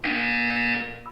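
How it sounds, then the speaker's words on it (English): A buzzer in the video game Portal 2 sounds once, a loud harsh electronic tone held for about a second before cutting off, with no talk. "When you hear the buzzer, look up at the ceiling."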